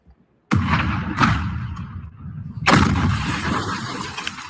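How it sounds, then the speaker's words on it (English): Two heavy explosions go off, each a sudden loud blast followed by a long rumbling roar that decays slowly. The second blast lands a couple of seconds after the first and nobody speaks. "So you can see massive explosions."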